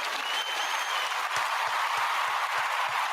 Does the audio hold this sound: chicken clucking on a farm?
no